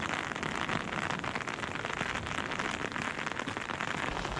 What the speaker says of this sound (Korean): 빗방울이 떨어진다.